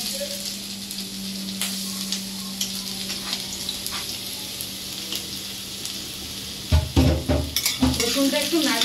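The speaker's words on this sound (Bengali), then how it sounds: "রসুনটা একটু নাড়িয়ে চাড়িয়ে নেব। রসুনটা হালকা ভেজে নিতে হবে।" Chopped garlic fries in hot oil in a kadai over a low flame, a steady close sizzle under occasional spoon taps, ending in a run of loud scraping stirs against the pan.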